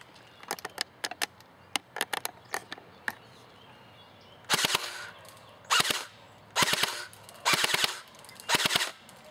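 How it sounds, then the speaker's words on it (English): Airsoft gun shooting BBs into the leafy bushes of a tree: first a run of quieter quick pops, then five loud sharp shots in a regular rhythm, close to the listener. "I'm shooting into the bushes of the tree now."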